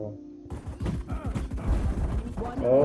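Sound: gunfire while shooting in the video game Valorant

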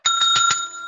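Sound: hand bell being rung

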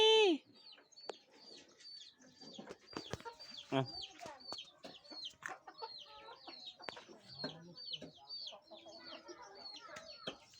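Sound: chickens clucking

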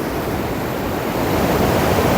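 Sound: strong sea waves on a beach in Phuket

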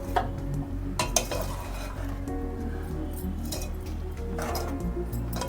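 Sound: stirring bajji batter with coriander

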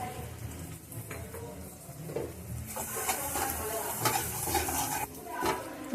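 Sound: sautéing spice paste with ginger in a pan

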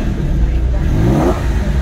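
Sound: car engine running and revving

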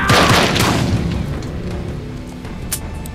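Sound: gunshot hitting player in video game Days Gone

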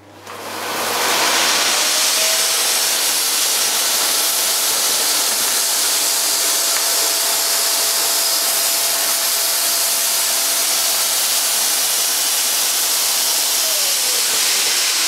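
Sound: Miele S5 cylinder vacuum cleaner running on full power

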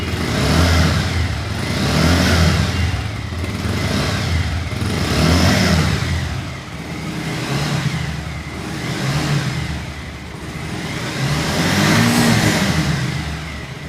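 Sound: used motorcycle engine starting and revving

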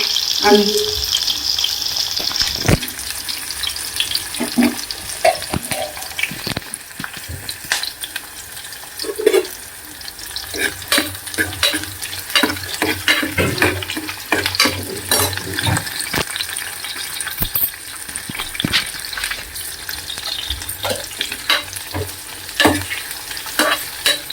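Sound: tempering frying and stirring in a pan

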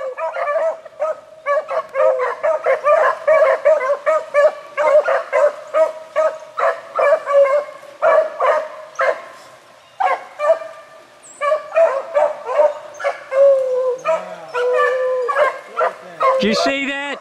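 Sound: beagle hounds barking on a hunt

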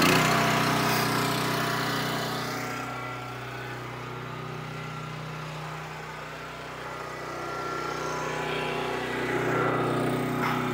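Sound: 28 Pro log splitter engine running

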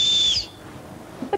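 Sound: life jacket safety whistle blown

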